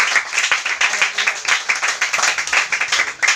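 A church congregation claps in praise during a Filipino Sunday worship service, a loud, steady, rhythmic clapping with a regular beat that carries on for several seconds without speech.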